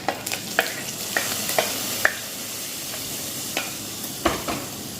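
Hot tempering hits oil in a pan for a Kerala-style curry, giving a steady frying sizzle and hiss with scattered crackles and pops, close-up and fairly quiet, with no voices.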